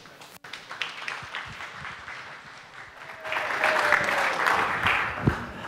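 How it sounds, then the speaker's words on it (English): An audience applauds as a speaker is welcomed to the stage at an evening talk, the clapping building from scattered claps into a fuller, steadier round toward the end. "please help me welcome to the stage, Jim Baldwin"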